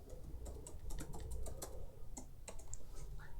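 Fingers typing a password on a computer keyboard, a quiet, uneven run of close plastic key clicks and taps over faint background hum, with no one talking.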